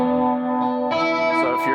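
Electric guitar through a Marshall amp with delay and reverb, a sustained ringing chord that blooms into a washy echoing tail as new notes are struck.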